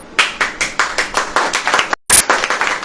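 Church audience clapping together in a steady beat, loud distinct claps about every quarter second with a brief gap near the end before resuming.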